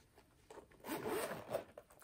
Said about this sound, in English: Then when I close it, zip it around